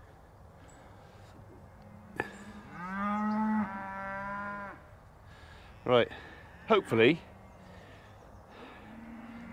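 Cattle in a field moo at one another: one long, drawn-out low moo, then several shorter, louder calls a few seconds later, with a person briefly talking nearby.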